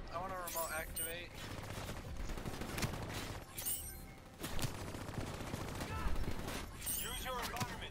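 Rapid bursts of gunfire in a Black Ops 3 campaign battle, crackling in quick volleys with brief pauses, under game music and effects, while a voice talks over parts of it.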